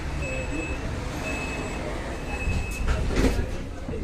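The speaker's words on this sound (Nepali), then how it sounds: "ट्रेन आयो यहाँको मेट्रो ट्रेन" A metro train in Romania rumbles in, its low steady roar building to a brief squeal of wheels near the end.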